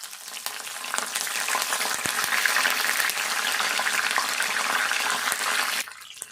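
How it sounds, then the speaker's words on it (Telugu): Tempering sizzles hard in hot oil as garlic, dried red chillies and curry leaves fry, a loud, dense crackling hiss that holds steady for several seconds before cutting off abruptly. "ఇట్లా వేగాలి కరివేపాకు"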